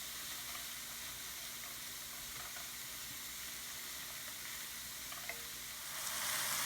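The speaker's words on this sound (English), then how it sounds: "Once you put pork in the pan, you want to increase the heat temperature to high so that pork is going to brown." Minced pork fries over high heat in a hot pan for mapo tofu, a steady hissing sizzle with occasional crackles and stir noises, close and continuous, swelling louder near the end, with no talking.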